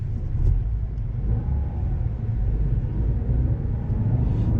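A Toyota GR Yaris, 260 hp with a six-speed manual and all-wheel drive, drones steadily on a race track lap, its engine a low, constant rumble heard from inside the car without pause.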